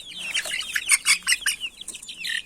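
Chicks and hens cluck and peep close by in a rustic setting, giving a quick, uneven run of sharp chirps and clucks with small gaps between calls and no talk.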